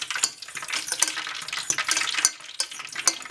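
A spoon stirs and clinks briskly in a bowl of broth mixture for vegan poutine gravy, giving a continuous close scraping and splashing with no talking.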